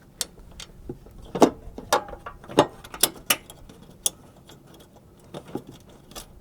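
A mounting bolt is threaded by hand into a car's HID headlight ballast, heard as scattered sharp metallic clicks and small rattles at close range.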